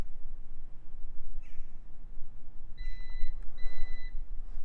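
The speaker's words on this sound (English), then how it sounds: "a beep." Two short electronic beeps from a Lynk & Co 01 car sound in quick succession over a faint background hiss, preceded by a softer chirp.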